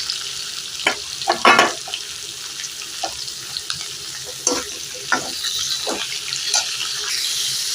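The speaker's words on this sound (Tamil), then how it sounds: "இப்போ நம்ம கட் பண்ணி வச்ச முள்ளங்கியும் போட்டுக்கலாம்" Chopped radish going into a pot of sambar with garlic, followed by stirring: a few clattering scrapes and a soft splash over a steady background hiss and sizzle, with no one speaking.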